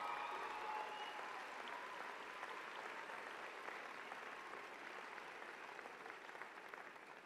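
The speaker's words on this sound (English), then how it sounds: "Give them a round of applause" A crowd claps steadily for graduates at a 2008 undergraduate commencement of Kean University's Ocean County campus, a dense, even roar of applause that holds for several seconds and slowly fades, heard from within a large hall.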